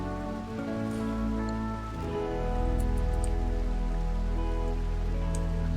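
Rain falling in the video game RimWorld, a soft constant patter sitting beneath louder sustained in-game music, with no speech.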